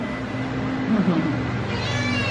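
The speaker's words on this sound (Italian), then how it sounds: "La smetti di gridare, piccolo gattino tutto bianco?" A small all-white kitten meows loudly and insistently up close, its cries overlapping with a voice talking to it.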